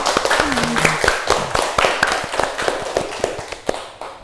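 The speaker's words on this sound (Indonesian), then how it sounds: "Betul, kasih tepuk tangan" A burst of hand clapping from a small classroom group, dense and uneven, steady for a few seconds then thinning out.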